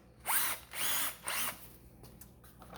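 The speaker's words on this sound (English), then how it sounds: "I'm drilling right now with, I believe this is a 3/8 of an inch" Power drill with a 3/8 inch bit boring holes through a rubber snow deflector for a Titan SP240 snow plow, three loud whining bursts about half a second each with short pauses, then quieter motor noise.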